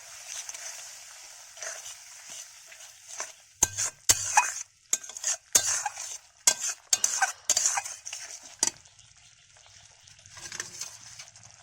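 Small shrimp sizzling in hot oil with turmeric in a pan for a Bengali malai curry, a spoon scraping and stirring in a run of clattering strokes between stretches of quiet frying.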